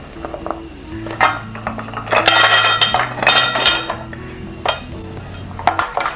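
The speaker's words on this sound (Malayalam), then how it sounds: "കൈ വിടാതെ ഇളക്കിക്കൊണ്ടേയിരിക്കണം." Ragi halwa with jaggery is stirred in a heavy-bottomed pot. A metal spoon scrapes and clinks against the vessel in an uneven, continuous rhythm, close and fairly loud, over a steady background hum.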